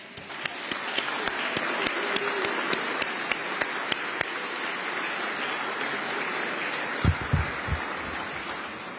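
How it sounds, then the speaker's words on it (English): A breakfast crowd at a Veterans Day reception applauds, a dense, even wash of clapping with a few sharp individual claps near the start, fading out into quieter room noise and brief thumps. "give your neighbor a round of applause"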